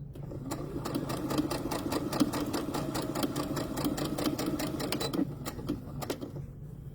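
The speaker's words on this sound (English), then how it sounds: "Oh, what are you sewing, Teresa?" A sewing machine runs continuously in a busy rhythmic whir with rapid needle clatter, close and steady throughout.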